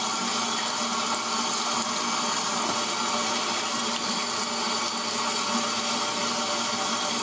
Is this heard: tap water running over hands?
yes